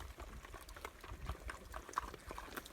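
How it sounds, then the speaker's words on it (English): Water trickles out into a pig pen trough at an off-grid smallholding, a faint, steady liquid wash with small irregular splashes and no voices. "this one you can see the water comes out and fills up over here"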